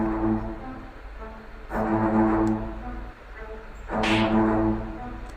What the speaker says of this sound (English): I'm using the double bass, the cello and the violin to create this sound.